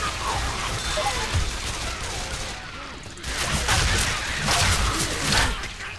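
Rapid bursts of gunfire in the zombie shooter Left 4 Dead 2, loud and continuous with a short lull near the middle before the shots resume densely.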